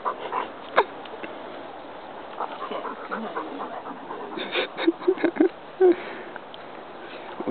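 A young puppy snuffles, pants and whimpers while playing and wrestling, producing short sniffs, soft whines and occasional yips, with people talking quietly nearby.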